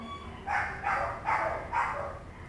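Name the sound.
beagle dog barking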